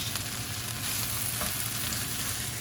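Cooked crawfish tails stirred in a pot of sizzling, liquidy étouffée: a dense, continuous frying hiss up close, with soft scraping taps from the spoon.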